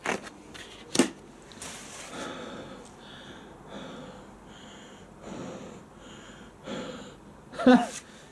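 Heavy breathing inside a closed motorcycle helmet with a visor: a series of loud, rhythmic huffing exhales and sniffs up close, with a few sharper gasps.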